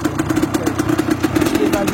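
A Honda 125 CR two-stroke motorcycle warms up with a rapid, steady put-put pulsing of its engine, heard close with faint voices in the background.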